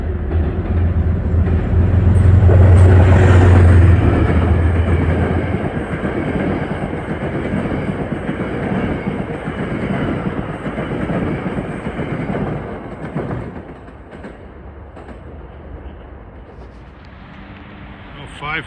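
A Metro-North commuter train on the Harlem Line, bound for Wassaic, roars past close by on an evening, loud at first and then fading, with voices talking over the rumble.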